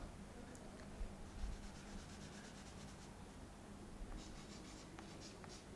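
Steady scratchy strokes of writing on a board during a Hindi-language physics class on the atom, quiet and close, coming in short bursts with small pauses between them.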